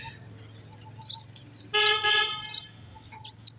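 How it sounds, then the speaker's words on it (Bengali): Several myna birds chirping and calling in short bursts over a field with rainwater pooled, one louder harmonic call in the middle, over a low steady hum. "শালিকেরা ঘুরতেছে খাদ্য সংগ্রহ করার জন্য"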